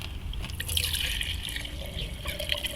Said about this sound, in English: we got a little bit of 87 octane here. We're going to use that to wash our hub before we take it apart.